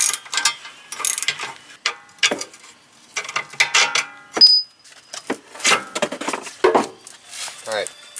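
A ratchet fitted with extensions and a swivel clicks in rapid, repeated bursts while working on a Volkswagen sway bar, loud and close, with metallic clinks between the strokes and a voice speaking at times.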